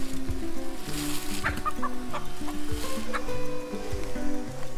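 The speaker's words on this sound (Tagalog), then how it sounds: "Papasukin naman natin ang mga manok na nagsalayuan na." Chickens cluck and chatter steadily in a paddock. Their overlapping calls sit over a continuous low mechanical hum, with no talk heard.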